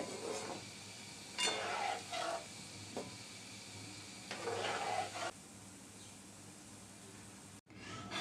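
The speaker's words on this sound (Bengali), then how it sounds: "অনবরত এরকম করে করে হালকা হালকা নেড়ে নেড়ে ভেজে নিব" Egg-battered bean flower fritters fry in deep oil and are gently turned, a steady sizzle broken by several louder bursts of hissing and scraping as they are moved.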